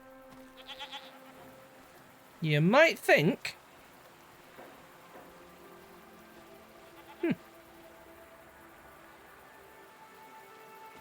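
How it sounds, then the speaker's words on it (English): A video game goat bleats loudly with a wavering, quavering call, followed by a couple of shorter faint bleats against quiet background noise; a voice speaks briefly. "What are these strange goat-like creatures? Are they simply goats?"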